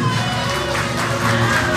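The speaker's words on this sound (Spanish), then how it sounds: "Un aplauso nuevamente para Aileen." Audience at a children's talent show cheers and claps for a young girl, a steady crowd roar with shouts and applause filling the whole stretch at close range.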